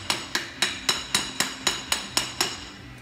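A hammer taps steadily, about ten sharp metallic strikes at an even pace, close by with no talking, driving a seal flush into a wheel hub through a wooden block on a 1993 Dodge W250.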